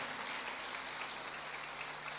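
A church congregation applauds during a sermon, a steady wash of many hands clapping that fills the space evenly at a moderate distance, with no voices on top.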